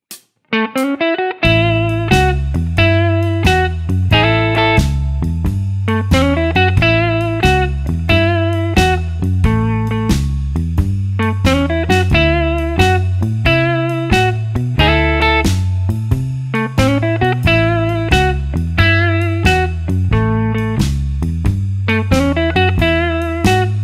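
Blues guitar melody on an Epiphone Sheraton II Pro, ending with the root an octave lower. The line moves through steady, clearly picked notes over a sustained low bass tone, played loud and close with no talking.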